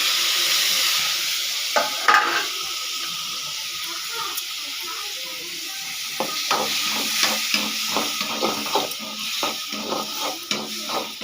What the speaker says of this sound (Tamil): பொரிஞ்சோடனே நம்ம தக்காளி வெங்காயம் வதக்கிறதுக்கு வச்சுருக்கோம் இல்லையா, அதை போட்டுக்கலாம்.